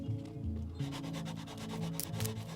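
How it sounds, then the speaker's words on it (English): Close, rhythmic rasping strokes of sandpaper shaping Milliput epoxy putty on a proton pack cyclotron ring, fairly even and continuous, with no speech. "start sanding it back to shape,"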